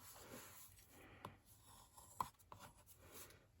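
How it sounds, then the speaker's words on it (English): A folded paper crease being burnished for a wallet-style card or mini journal, giving soft, close rubbing strokes in a few quiet passes, with a sharper tap or two, and no talk. "And I'm gonna just fold and burnish that."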